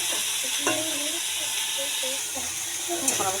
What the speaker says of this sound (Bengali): আমার কফিটা ভাজা হয়ে গেছে